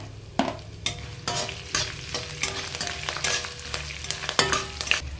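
Pork sizzles and fries in a pan for an Angamaly-style pork fry, with repeated scraping stirs of a spatula cutting through a constant close crackle, no voices.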